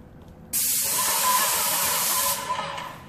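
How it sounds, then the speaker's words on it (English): Paint spray gun fitted with a Wagner Titan 517 HEA tip spraying, a sudden loud steady hiss lasting about two seconds that cuts off abruptly, close and alone. "Now I just want to show how soft the spray comes out of the gun."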